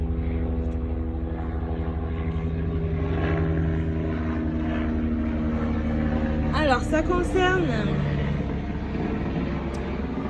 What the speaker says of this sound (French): Désolée pour ce petit hélicoptère qui nous passe par-dessus.